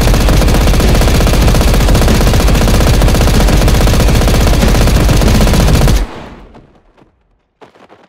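Loud, sustained automatic gunfire in a prison-themed video game rattles nonstop for about six seconds, then cuts off abruptly, leaving a brief fading tail and a couple of faint clicks.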